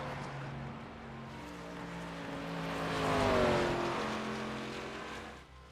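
ARCA race cars at Iowa roar past, engine pitch swelling as they approach and then bending downward as they pass and fade, heard at a moderate distance.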